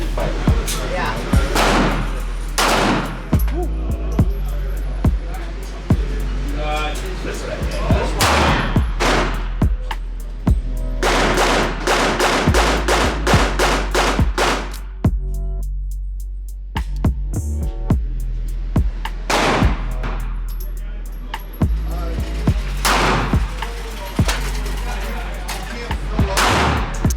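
Guns fired outdoors: sharp, loud bangs come in scattered single shots and quick bursts, repeated throughout, with people talking in between.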